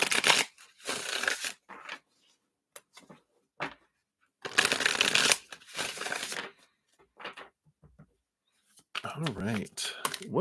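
Several bursts of brisk tarot card shuffling, rustling and riffling close by, with short pauses between and a voice speaking briefly near the end.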